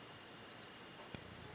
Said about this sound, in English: You will hear a series of beeps and then